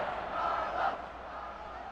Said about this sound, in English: Crowd cheering, chanting his name.